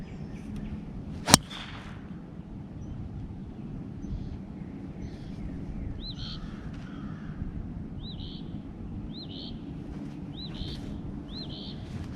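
Golf club striking a ball on the Tobacco Road course: one sharp, crisp crack early on, followed by quiet outdoor ambience with faint wind and several short bird chirps in the distance.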